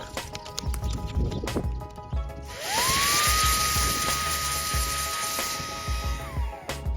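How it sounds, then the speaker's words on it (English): An electronic air blower spins up with a rising whine, holds a steady high-pitched hiss of air while clearing an eBike charging port, then winds down, with small clicks and handling noises around it. "I'm using an electronic air blower to clear out the charging port."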